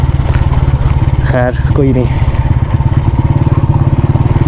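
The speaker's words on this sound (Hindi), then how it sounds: "फ़िलहाल तो हमारी छोटी सी बाइक है होंडा 125 ही है" A Honda CG125 motorcycle runs steadily while being ridden on a rough mountain road in Kashmir, with its pulsing single-cylinder putter loud and close beneath someone talking briefly.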